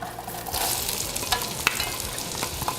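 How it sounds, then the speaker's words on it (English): Diced sweet onion frying in melted butter for a coconut milk lamb curry, giving a steady hissing sizzle up close, broken by sharp clicks and scrapes of a spoon against the pan. "We're going to drop that in and saute it in our melted butter."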